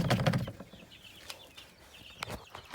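Quails and chickens on a farm give soft clucks and brief fluttering wing flaps, faint and intermittent with quiet gaps between.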